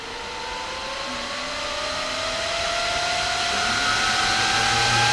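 Love Jugs accessories fitted to a 2009-or-later Harley-Davidson touring motorcycle whine as they spool up, a steady electric hum rising in pitch and growing louder over a few seconds, much like a supercharger.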